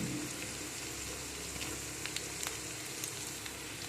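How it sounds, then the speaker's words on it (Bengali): Chopped garlic and ginger frying in oil in a pan, giving a steady, soft, close hiss with scattered small crackles throughout and no voices. "প্রথমে তেলের মধ্যে আমি দিয়ে দেব কুচিয়ে রাখা রসুন"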